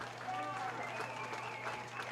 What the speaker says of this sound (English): they receive a nice salute from the crowd